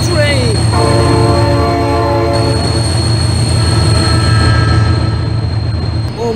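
A train rolls past close by, a loud sustained rumble with a horn-like tonal blast near the start and steady wheel clatter throughout.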